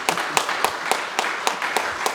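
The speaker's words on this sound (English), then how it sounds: "So I think we should all applaud Millie" Audience applause at a Sydney Is Beautiful event, rhythmic clapping with evenly spaced sharp hand claps in a steady beat, moderately loud and without talk.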